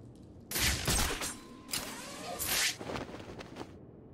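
Gunfire rings out from a bell tower in the video game Batman: Arkham City, a few sharp, loud reports with echoing tails spread over a few seconds, with no talk over them.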